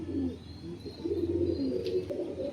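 Small Arsad-line pigeons give soft, low, repeated coos at close range. A few faint chirps and light rustles come through, and no one speaks.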